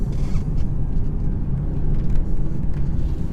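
The 2016 BMW 440i Cabriolet in Sport Plus mode with its ZF 8-speed gearbox gives a steady deep engine drone and road rumble heard from inside the cabin, loud and unbroken, with no voices.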